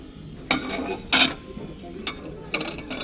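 Large and smaller ceramic plates set down and handled, giving a few sharp clinks spread across a quiet moment, moderately close.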